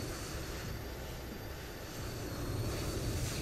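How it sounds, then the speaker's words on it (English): Airplane engine noise from another aircraft passing in Microsoft Flight Simulator near a Boeing 737-800 at Lelystad Airport: a steady broadband roar that swells slightly toward the end, with no talking. "I could for sure hear another plane"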